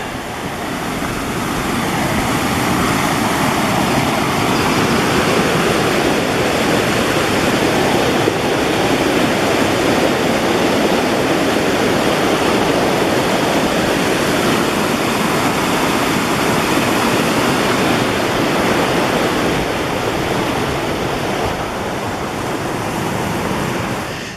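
A mountain creek in Missouri Gulch rushes steadily and loudly nearby at a log crossing, a dense, continuous roar of flowing water with no pauses throughout.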